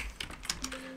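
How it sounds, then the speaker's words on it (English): A few quick keystrokes on a computer keyboard, soft close clicks in a short irregular burst, with faint tonal hum in a quiet room. "hit Control F, you get this little search box, and then you type in"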